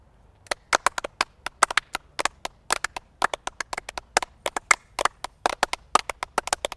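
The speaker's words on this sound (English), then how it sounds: "Let's all start clapping at our own rhythm and pace, and don't worry about coordinating with each other." Many people clap at once, out of sync, producing a loose, irregular patter of sharp claps with no shared beat.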